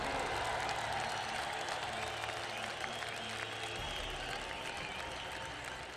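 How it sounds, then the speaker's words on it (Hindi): Stadium crowd applauding at a chief minister's swearing-in ceremony in Maharashtra, a broad wash of clapping heard from a distance over a low hum and faint background voices. "स्टेडियम तालियों की गड़गड़ाहट से गूंज उठा"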